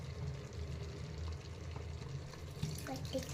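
Hot water poured into a pot of cooking country mutton in a village kitchen makes a soft, steady rushing splash, low in level and continuous throughout.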